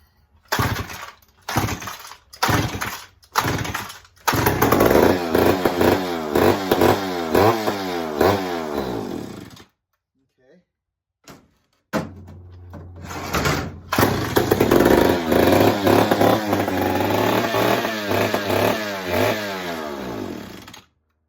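A chainsaw engine fires through several short pull-start bursts, then catches and runs loud and close with rising and falling revs, cuts out to near silence, and then restarts and revs again.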